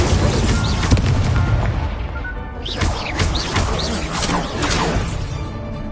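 Spell impacts in the Hogwarts Legacy video game, including the Incendio fire spell, as a loud continuous roar of crashing blasts, booms and whooshing bursts layered throughout a busy fight.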